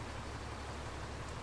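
Steady, soft hiss of rain falling continuously in the video game Farming Simulator 22, an even wash of noise with no other sounds standing out.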